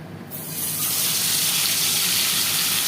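A piece of bhola fish hits hot oil in a wok, setting off a sudden loud hiss that quickly swells into a steady, bright sizzle.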